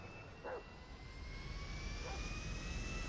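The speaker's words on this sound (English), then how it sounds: "now we are leaving with a plane, with a jet to be more precise, to Vice City" A jet plane engine in the GTA 5 video game roars as a steady, broad whine with a high tonal streak, holding constant throughout with a faint bark-like blip early on.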